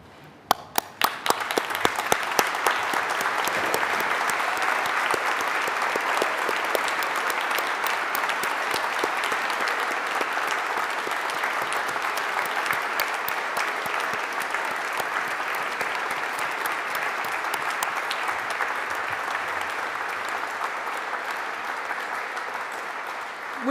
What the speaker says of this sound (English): stand and join me in one last applause for the success of those who